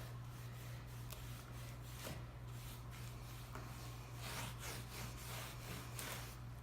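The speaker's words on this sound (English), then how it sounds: "I'm just using like an old dish rag, and I'm just going to wipe off the excess" An old dish rag wipes excess dark wax off a piece of furniture, giving a soft, steady rubbing swish with brief scuffs over a constant low hum.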